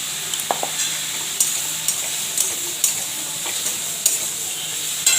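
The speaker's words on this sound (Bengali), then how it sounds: "ভালো করে ভেজে নেব।" Onion and potato fry with salt and turmeric in a pan, a constant close sizzle punctuated by regular scraping stirs of a spatula against the pan, no talk.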